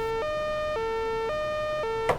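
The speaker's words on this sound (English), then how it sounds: "now that sounds like a French ambulance" A synthesizer oscillator patch plays a two-tone alternating siren pattern like a French ambulance, bright harmonic tones switching between a low and a high pitch about every half second, loud and steady with no voices.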